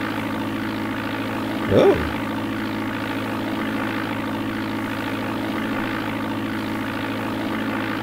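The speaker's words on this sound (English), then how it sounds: "Starship or something. Beechcraft Starship." Simulated Beechcraft Starship aircraft engine from the DOS game Flight Simulator 4, a steady, close droning hum that runs unbroken throughout, with a brief spoken exclamation near the start.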